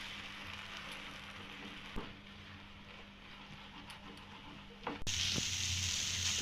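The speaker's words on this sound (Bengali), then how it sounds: "তো ডিমটাকে আমি সমস্ত মশলার সঙ্গে একটু ভাজা ভাজা করে নিয়েছি" Eggs frying with a spice paste in a pan for a spicy jhal pitha, a soft steady sizzle with occasional scrapes of stirring, rising to a louder, brighter hiss near the end.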